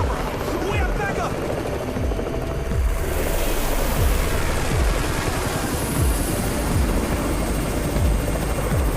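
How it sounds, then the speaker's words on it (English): A helicopter arrives in the video game Undawn, its rotor chopping loud and steady throughout under a continuous engine roar, mixed with game ambience. "It's the Raven's chopper!"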